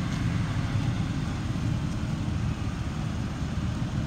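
Steady idle of a 2006 Ford F-150 XL work truck, a constant low rumble with a smooth broadband hiss over it, even and unbroken throughout with no voices.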